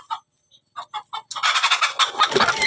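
Several short chicken clucks close by, then a burst of louder, overlapping flapping and squawking fowl noise that continues to the end.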